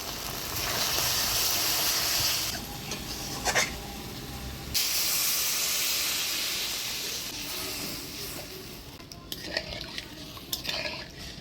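Water splashed into spice paste frying in oil in a pan for a village-style fish curry, a loud steady hiss of steam and sizzle with occasional clinks and scrapes of a utensil.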